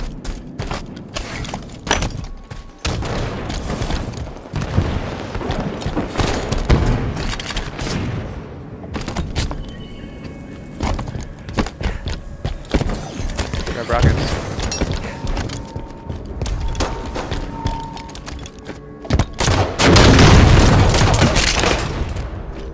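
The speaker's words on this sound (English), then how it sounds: "Lost one to a grenade." Explosions and bursts of gunfire in a Halo 5 multiplayer match give repeated booms, rattling shots and crashing impacts, loud and dense throughout, with a heavy blast near the end.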